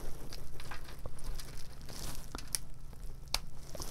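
Ironwood ratcheting shears snipping and crunching through the clustered branches of a Fukien tea plant during repotting, with a steady rustle and a few sharp clicks, close up and without speech.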